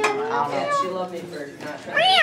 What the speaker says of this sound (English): That was a cat dying.